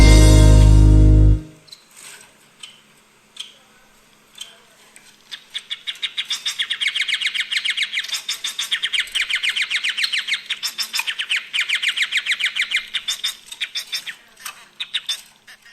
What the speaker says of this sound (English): It's not a vampire finch, but it's called something called a society finch.